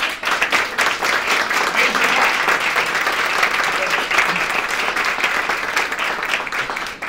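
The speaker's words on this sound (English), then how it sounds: "So let's give her a round of applause." Sustained audience applause at an inaugural launch event for a magazine issue, steady dense clapping from a sizable crowd throughout, with faint voices mixed in.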